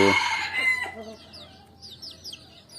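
Young chickens cluck and call in short bursts, with a loud squawk at the start and quieter chirpy clucks trailing off afterward.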